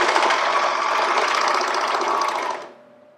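A sewing machine finishes the neckband seam on a knit T-shirt, running in one continuous, close whirring stretch of about two and a half seconds before stopping abruptly.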